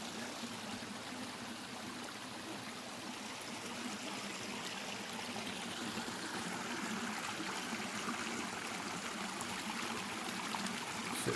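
Stream water flowing over rocks in Tishomingo State Park, a constant broadband rushing and trickling that stays steady and fairly soft throughout with no voices.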